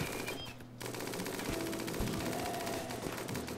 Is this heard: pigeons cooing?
no